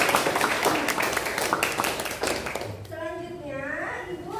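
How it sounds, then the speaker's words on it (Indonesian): A primary school class claps for a pupil, a burst of quick dense handclaps that fades after a couple of seconds, followed by children's voices talking. "tepuk tangan untuk Cahyani"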